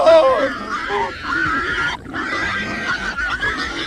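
A herd of pigs grunts and squeals in a film scene, the animal noise dense and continuous beneath a voice and other soundtrack layers.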